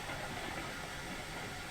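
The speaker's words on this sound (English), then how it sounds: "Yeah, she derailed." Steam train rumbling and hissing through a curve in a railroad simulation game, a steady, dense wash of rolling noise and steam with no pause, close and continuous as the locomotive leaves the rails.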